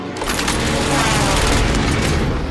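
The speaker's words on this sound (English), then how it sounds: "friendly precision airstrike inbound" Precision airstrike in Call of Duty Warzone Rebirth, a loud rumbling barrage of overlapping explosions and rapid blasts filling the whole moment.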